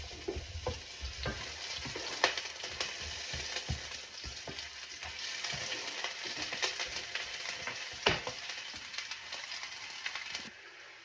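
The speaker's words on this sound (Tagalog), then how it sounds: "So init na ang mantika sa ating kaha." Tiger giant shrimp frying in hot oil in a wok while pancit canton is cooked, a steady close sizzle broken by stirring scrapes and crackling pops, with no talking.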